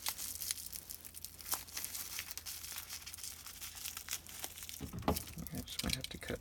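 A LEGO Cloud City set, 10123, is pulled against strong Scotch tape and its packaging, giving close crinkling, tearing and rustling with a busier burst of crackles near the end.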